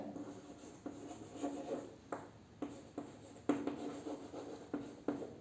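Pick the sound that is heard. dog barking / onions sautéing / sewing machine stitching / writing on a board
writing on a board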